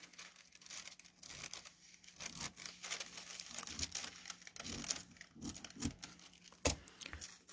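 Scissors cut through a thin paper sewing pattern, giving a close, quiet run of crisp snips and rustling crinkles, with one sharp tap near the end.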